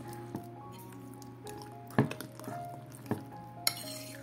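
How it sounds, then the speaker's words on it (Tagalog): Sweet potato flan mixture being stirred in a bowl, a soft wet squishing with a few sharper utensil clinks against the dish, close and moderately quiet over a steady low background hum. "Haluin laang ho nating maigi hanggang sa mag-well combine na ang ating mga ingredients."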